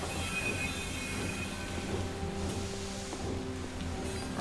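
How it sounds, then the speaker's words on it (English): A train rolls in at a World War I field hospital in a video game, a low steady rumble with faint squealing wheels and metallic clanks, moderately quiet, with no talk. "Our train is here."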